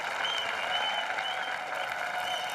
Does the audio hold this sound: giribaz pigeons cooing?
no